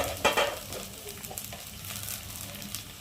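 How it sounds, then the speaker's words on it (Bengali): Spice paste of garlic, ginger and cumin with chopped tomato and salt, stirred and fried in a pan for a kosha meat curry, a close, steady sizzle with a couple of sharp scraping strokes at the start. "হলুদ গুঁড়ো আর লঙ্কার গুঁড়ো দিয়ে মশলাটা ভালোভাবে কষিয়ে নেবো"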